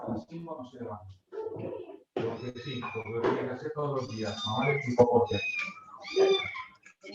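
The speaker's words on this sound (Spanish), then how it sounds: "tengo 2 gatitas bebés y están llorando" Two baby kittens cry and meow in a run of high, plaintive calls, some overlapping and rising in pitch, fairly close and indoors.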